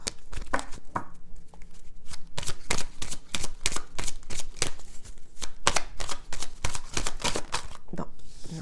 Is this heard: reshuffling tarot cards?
yes